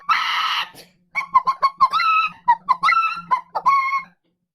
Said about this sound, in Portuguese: as galinhas responderam com grande carcarejo.